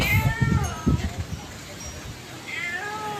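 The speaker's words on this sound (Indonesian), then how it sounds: "Kesian banget ngeong itu" A cat meows repeatedly during a flood in a residential area, a few plaintive cries at the start and another near the end, heard close over a steady background of rushing water and noise.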